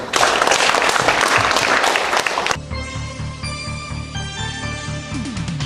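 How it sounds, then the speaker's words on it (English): An audience at a formal ceremony honouring a director and a distinguished professor gives a dense burst of loud clapping for about two and a half seconds, which then cuts abruptly to a quieter, steady tonal background. "Let me give him big applause."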